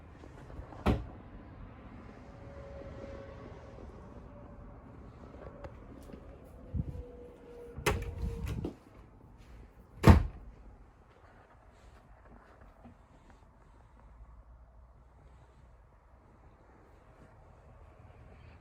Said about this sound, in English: It does have a really spacious pantry with pull-out drawers.